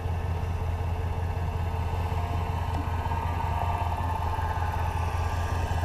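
A truck engine runs in cold, snowy weather, giving a steady, continuous low rumble with no voices.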